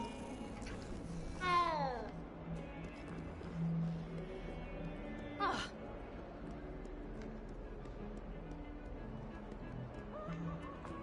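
A cat meows in the Hogwarts Legacy video game, a couple of short distinct meows over ambient game sound and faint music, moderately near.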